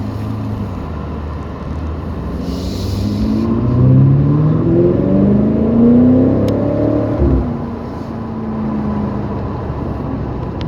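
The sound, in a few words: BMW M5 Competition exhaust while accelerating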